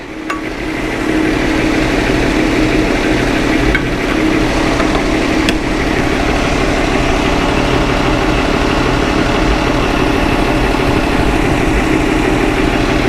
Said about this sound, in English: I'll let her idle. Good running little car.